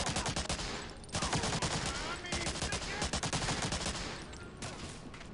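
Rapid bursts of gunfire in the PC game Medal of Honor: Allied Assault crackle almost nonstop, loud and close, with brief gaps between volleys, like an intense firefight.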